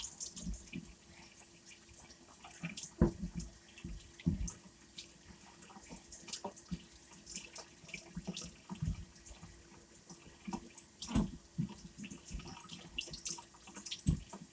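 Tap water runs into a kitchen sink while an eggplant is washed, a steady low splashing broken by irregular louder sloshes and handling sounds, close up with no talking.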